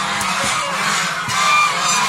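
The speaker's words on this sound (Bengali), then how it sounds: "এই যে দেখেন মারামারি, এই হাঁসের সমস্যা হচ্ছে একটাই" Young geese fighting let out a few brief, raspy honks close by over a noisy background.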